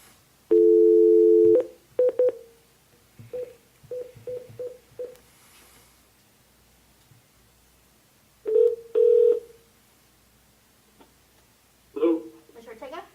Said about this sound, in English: I'm gonna dial him in again.